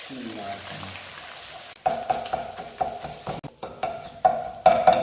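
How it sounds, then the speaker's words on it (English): Cooked egg being stirred and broken up in a frying pan for chicken fried rice, a utensil scraping and chopping through it in repeated strokes over a steady sizzle, growing louder and busier in the second half. "once it's cooked, then you just stir it and just break it all up"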